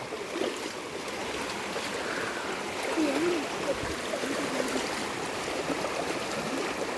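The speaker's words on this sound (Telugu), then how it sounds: "రెండు వైపుల నుంచి ఎలా వస్తున్నాయో వాటర్" Water rushing in from two sides along a path, a steady broadband wash under faint voices and footsteps throughout.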